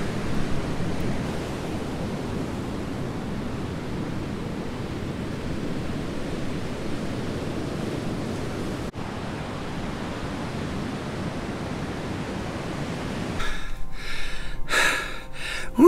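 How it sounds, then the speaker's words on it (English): Ocean surf roars in a continuous heavy wash along Australia's Great Ocean Road, loud and steady, with a brief wind buffet near the end. "Can you hear the roar of that ocean? It is really roaring. It is thundering in."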